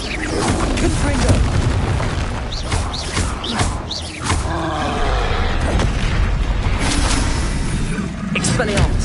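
Confringo blast spells going off in the video game Hogwarts Legacy, repeated booming explosions over dense, busy combat noise, with a voice shouting the spell names.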